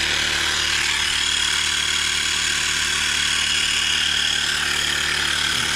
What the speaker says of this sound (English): This is a Mi electric Xiaomi pump. We have it at 55 PSI.